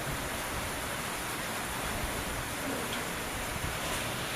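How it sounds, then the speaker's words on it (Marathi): Light drizzling rain falls steadily outdoors near an old hillside temple, a soft even hiss close by with no voices. "रिमझिम पाऊस चालूच आहे"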